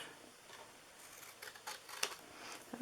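Scissors snipping paper while making a gift box, a faint series of small close clicks and cuts growing slightly louder toward the end, with no talking.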